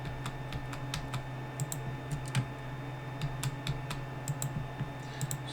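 Computer keyboard keys clacking in quick irregular bursts, sharp close clicks of a keyboard shortcut being typed during image annotation work, with a steady hum beneath and no voices.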